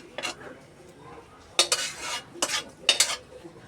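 A spoon mixing boiled mung dal into bhuna khichuri made with polao rice in a pot makes a few loud, close scraping and clinking bursts in short clusters, separated by brief quiet gaps, with no voices.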